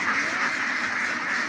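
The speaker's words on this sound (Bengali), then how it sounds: "আপনারা দেখছেন হাঁস সবগুলি এখানে আসছে" A flock of farm ducks quacking together continuously at close range, a dense overlapping chorus of calls filling the whole short stretch.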